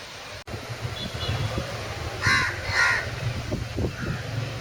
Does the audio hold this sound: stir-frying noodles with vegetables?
no